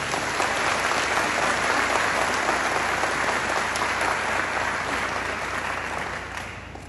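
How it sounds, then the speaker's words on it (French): A large audience gives a sustained round of dense applause, loud and even throughout, then tapers slightly toward the end, with no voices standing out. "À vous, 1000 merci et 1000 salves d'applaudissements."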